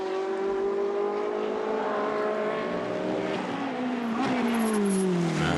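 Race cars in a Trofeo Pirelli race at Sochi roar past with steady, loud engine tones that rise and fall in pitch as they pass, under continuous crowd-level background noise.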